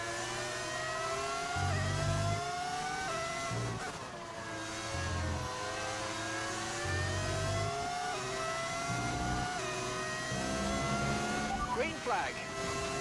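Ferrari F1 race car engine in the F1 25 racing game, a high-pitched screaming engine rising and falling through gear changes, continuous and fairly close, with someone talking over it.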